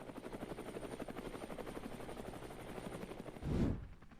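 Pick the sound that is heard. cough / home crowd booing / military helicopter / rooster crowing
military helicopter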